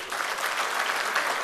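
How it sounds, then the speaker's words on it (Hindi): Audience at a mushaira in Kuwait clapping in a steady, dense burst of applause, loud and close, with no voices heard over it. "एक बार तालियां बजा के इजाज़त दे दीजिए।"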